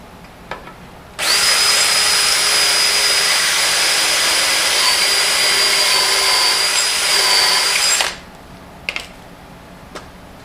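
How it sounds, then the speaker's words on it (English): A power drill bores into wooden easel pieces in one continuous loud whine of about seven seconds, with a few faint clicks and knocks before and after. "So I'm going to drill all these and we'll be done."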